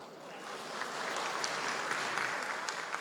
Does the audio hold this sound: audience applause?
yes